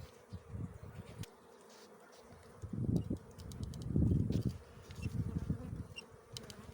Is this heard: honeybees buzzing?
yes